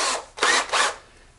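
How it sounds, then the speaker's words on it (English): A power drill bores through wood for a screenprinting frame in short close bursts, three rising buzzing surges about a second apart with brief gaps, no voices. "drill these rascals right through here"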